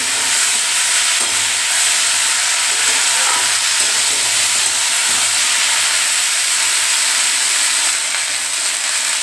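A green chilli added to hot oil sizzles loudly and steadily, a constant close hiss with faint stirring knocks and no talk.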